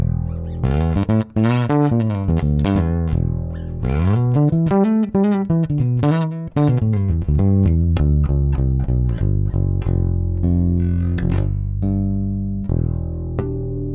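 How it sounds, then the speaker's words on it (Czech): A Blond JAB-1 electric guitar on its neck pickup alone plays warm, sustained melodic phrases and quick runs with bends, loud and up close, with no voices. "Zkusíme samotný snímač u krku."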